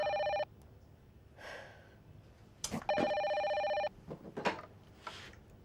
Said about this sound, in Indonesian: Mas, ada telepon.